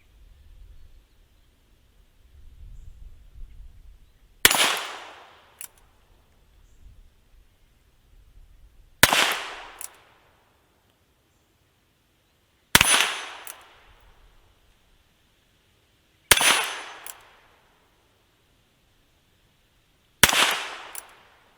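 A Ruger Wrangler revolver fires at targets downrange: five loud, sharp shots spaced about four seconds apart, each with a short decaying ring and near silence between.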